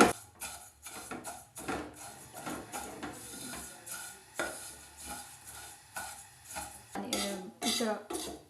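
A rice spoon scrapes and clinks against a pot while vermicelli roasts in oil for doodh wali savaiyan. Repeated irregular metallic knocks and stirring scrapes sound close by, with no talking.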